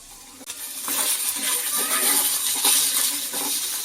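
Pre-boiled chicken frying in hot oil, a steady close sizzle with scattered crackles and pops that starts with a clink and continues without a break.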